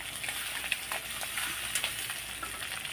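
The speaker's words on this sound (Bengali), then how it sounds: "এবার আমি ভেজে নেবো এক এক করে" Eggs frying one by one in hot oil with turmeric in a Bengali home kitchen, a steady close crackling sizzle with small pops, alone without talk.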